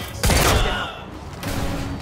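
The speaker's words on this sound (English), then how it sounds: "Target's armed. Opening fire." Gunfire in the shooter video game Quantum Break, a loud burst of shots and heavy impacts that opens sharply, fades, then swells again, with voices talking over the action.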